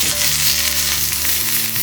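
Onions sautéing in a little oil in a pan, a steady dense sizzle with a low hum beneath, continuous and close throughout.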